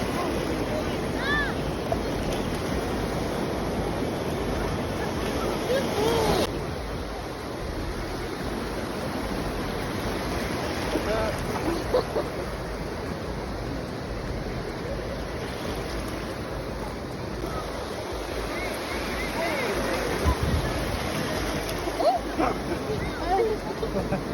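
Ocean surf churns and crashes continuously around a swimming animal, with heavy wind buffeting the microphone and rushing water filling the whole stretch, loud and unbroken.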